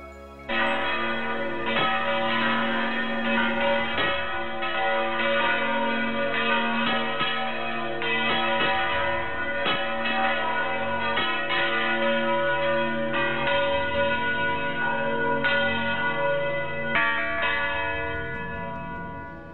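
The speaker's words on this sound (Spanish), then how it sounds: "Esa misma noche echó a vuelo las campanas." Church bells ringing continuously in a full, overlapping peal, loud and resonant throughout with no voices.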